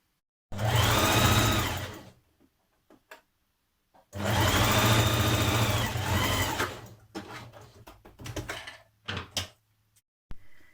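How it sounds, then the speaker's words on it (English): A sewing machine top stitches along a sweatshirt seam in two long, loud, close runs, followed by a few short stop-start bursts and clicks of handling. "you can top stitch along here a few millimetres along, just to keep that seam lying down flat"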